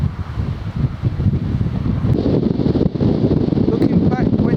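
Strong wind buffets the microphone on a coastal footpath between Folkestone and Dover, a steady loud broadband roar with gusting surges throughout.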